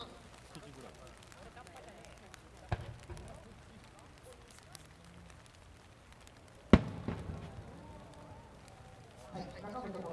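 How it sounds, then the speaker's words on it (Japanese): Fireworks at an outdoor display in Osaka burst as distant, isolated booms, two separated sharp reports with faint crackling after, while a commentator talks steadily over the quiet crowd ambience. "内側の丸と外側の丸に分かれて2色になっているような花火でございます。"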